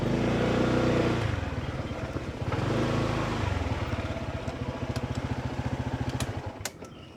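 A motorcycle engine runs nearby, a loud low rumble that settles into a rapid rhythmic putter as it idles and moves, with a few light clanks toward the end.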